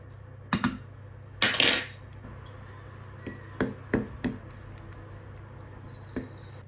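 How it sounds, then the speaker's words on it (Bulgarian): Fork clinking and scraping in a bowl while mixing dry flour and baking powder for a tutmanik batter: a few sharp metallic taps and scrapes, then scattered lighter clicks, close and alone. "с виличката разбърквам всичко, докато се получи хубава смес"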